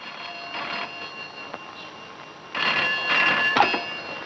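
A telephone rings in short electronic bursts, two brief rings then a longer, louder ringing stretch, fairly close with no talking.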